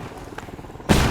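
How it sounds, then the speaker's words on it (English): A flashbang grenade going off in Ghost Recon Wildlands, a sudden loud bright burst near the end after a stretch of quieter rumbling game ambience. "Lobbing a flashbang."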